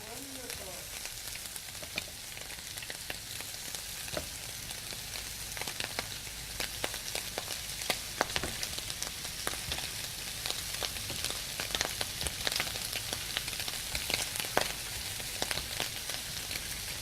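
Shrimp stir fry sizzles in a pan, a continuous close hiss with scattered crackles and pops throughout, mostly alone with little talk.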